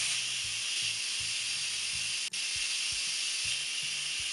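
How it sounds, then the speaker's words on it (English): Steady, loud hiss of steam venting from an Instant Pot's quick release valve after cooking a pork tenderloin, continuous from start to finish with a faint low thumping beneath and one brief dropout midway. "So now I'm going to open my valve, quick release, let the rest of the steam out."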